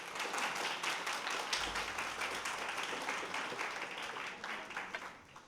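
A church congregation applauds steadily during a sermon, a dense wash of many hands clapping together that holds throughout and fades slightly toward the end.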